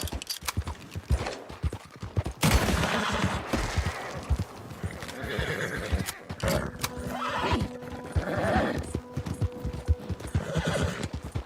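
Horse hooves clip-clop at a gallop in Red Dead Redemption 2, loud and steady for the whole stretch, with a whinny and a rider's brief shouts over the rhythmic hoofbeats.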